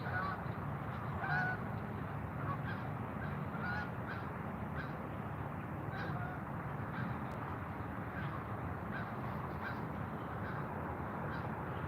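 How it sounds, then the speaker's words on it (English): Passing geese honk in a thick, continuous flock chorus over an outdoor trout fishing spot, heard at moderate distance with no talking over it. "Comes another squad of geese."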